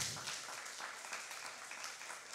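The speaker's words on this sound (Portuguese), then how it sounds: "Vamos aplaudir ao Senhor por isso." A church congregation applauds during a Sunday morning service, a dense, steady wash of many hands clapping at moderate level throughout, slightly distant, with no voices standing out.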